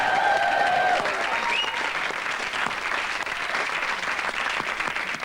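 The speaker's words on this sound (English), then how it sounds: "Round of applause." A studio audience applauds, with dense, sustained clapping that fades slightly toward the end.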